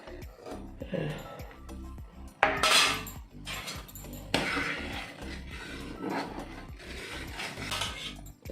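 A metal lid set onto a cooking pot of simmering curry in a home kitchen, giving a sharp clatter and rattle of clinking metal, with smaller scrapes and knocks of kitchen utensils around it.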